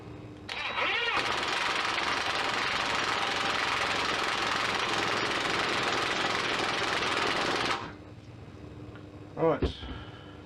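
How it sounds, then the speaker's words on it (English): An impact wrench with an impact socket works a rear suspension bolt on a 1966 Triumph Spitfire 4 Mk II, one long loud sustained rattling burst up close, then a short quieter whir. "And then I'll get started with the impact socket."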